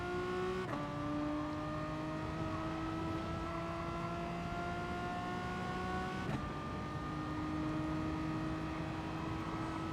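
A Renault Megane race car engine in Gran Turismo Sport on PS4 holds a steady, close, harmonic drone, with sharp gear changes early and again later as the pitch climbs and resets.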